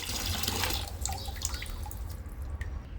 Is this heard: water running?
yes